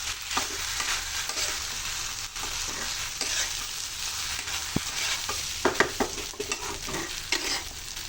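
Ginger and garlic frying and being stirred in a pan for a broken-rice dish, a steady close sizzle with scattered scrapes and clicks of a spatula, no talking.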